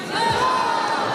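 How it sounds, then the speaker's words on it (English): A judo arena crowd cheers and roars after a seoi-nage throw, a brief swelling wash of voices with whoops, fairly loud and close. "Crowd really appreciating it"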